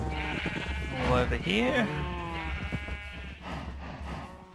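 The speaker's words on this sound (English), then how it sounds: "We've got sheep in the cow pen, and the chicken in the cow pen." Minecraft sheep bleat loudly and repeatedly in a farm pen shared with cows and chickens, the wavering bleats coming close together in the middle while someone talks over them.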